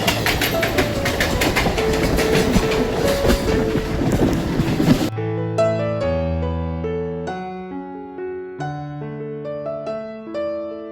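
A train clatters steadily along the rails for about five seconds, loud and close, then the rumble gives way to music.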